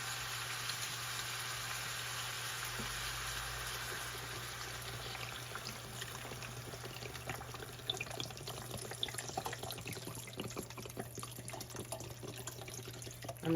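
Organic coconut water pours into a cooking pot in a steady, soft trickling stream that continues for the whole stretch, faint and close, with a few small splashes toward the end and no talk.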